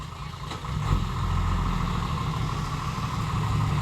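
A six-wheeled truck with its engine rumbling steadily at close range, a low idle-like drone holding level for a few seconds after a brief rise at the start.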